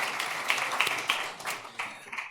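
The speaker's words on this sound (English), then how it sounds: "Round of applause again, please." Applause from the audience at a conference plenary session on inequality, work and nature, fairly faint and roomy, with a few louder bursts of clapping standing out over a steady patter.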